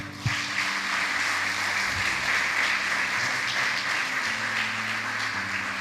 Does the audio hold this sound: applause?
yes